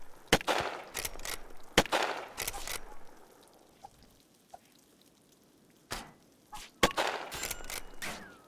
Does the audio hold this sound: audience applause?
no